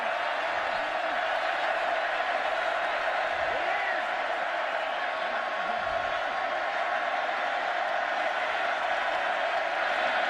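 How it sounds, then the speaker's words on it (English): A large stadium crowd cheers at a Baylor football game at Floyd Casey Stadium in Waco, a dense, sustained roar with whoops and voices mixed in, holding steady and loud throughout. "The crowd comes alive"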